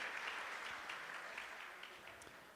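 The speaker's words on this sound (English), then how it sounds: "Let's give a huge round of applause to welcome our guests for today" Steady applause from an audience welcoming guests at a Sunday evening church program, a dense wash of clapping that stays fairly loud throughout and fades slightly toward the end, with no one speaking over it.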